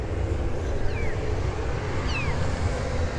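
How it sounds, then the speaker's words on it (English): Kittens beside a grain dryer auger on a corn farm, two faint, short rising mews about a second apart, nearly buried under loud, steady rumbling machinery noise. "right by the auger, we got ourselves some kittens"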